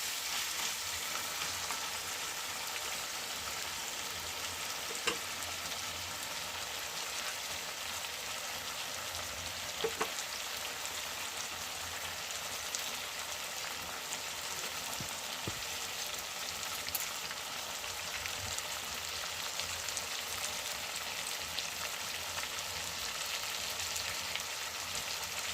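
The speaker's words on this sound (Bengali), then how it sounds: "চিকেনটা আমি ভালো করে সমস্ত মশলা দিয়ে নাড়িয়ে নিচ্ছি।" Chicken with chilli, cumin, coriander, salt and ginger-garlic paste sizzles steadily in a pan, a soft continuous frying hiss broken by occasional faint clinks and scrapes of stirring.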